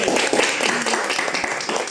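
Dense applause from an audience at a 27th company anniversary celebration for KKI Group, steady and continuous throughout with sharp individual claps rising out of the wash.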